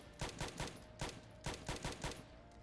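Gunfire in the Project Zomboid video game, six evenly spaced bursts of paired shots, fairly close and clear with no talking.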